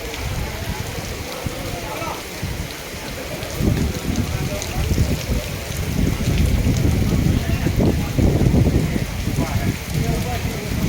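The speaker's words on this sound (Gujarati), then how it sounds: "જુનાગઢમાં ફૂલ વરસાદ ચાલુ છે અત્યારે" Heavy monsoon rain pours down in Junagadh, a steady broadband hiss and roar that thickens and grows louder in the second half, with no break in the downpour.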